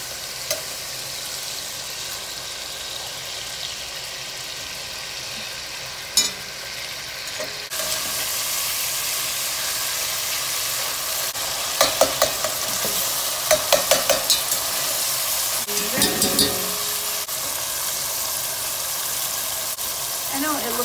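Meat sizzling and frying in a pan, then flipped and onions added: a continuous sizzle that grows louder midway, with spatula scrapes and clatter, and a person talking over it at times.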